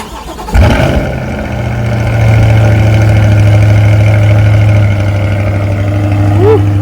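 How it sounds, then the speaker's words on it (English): A 2020 Chevy Corvette C8 cold-starts with a sudden loud crank and catch, then settles into a strong, steady, deep idle that swells slightly and hums on nearby, with people talking briefly over it. "All right, so we're going to do a cold start."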